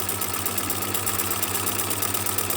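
A sewing machine stitches steadily along a marked red line on fabric, a continuous even mechanical hum with a fast regular needle rhythm, close and alone at a moderate, unhurried pace.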